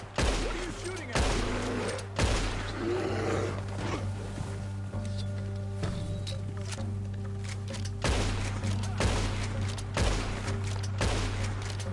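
Scattered gunshots in a PS4 video game, several sharp loud cracks spaced a second or two apart over a low steady hum, with some faint talk in between.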